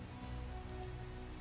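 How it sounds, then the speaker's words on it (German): Steady rain falling in Minecraft, a continuous soft hiss of drops with a faint low rumble, even and unbroken with no voices. "Jetzt regnet das auch noch so eine Kacke."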